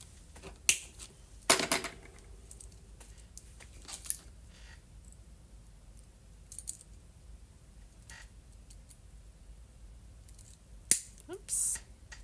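Scissors trim a paper page embellishment in a crafting session. A few sharp, quiet snips come scattered over a near-silent background, with some brief clustered cuts at the start and the end.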